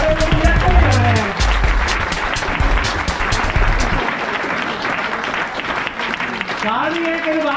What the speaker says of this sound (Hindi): सबके सम्मान में मैं तालियां चाहता हूँ जोरदार वाली।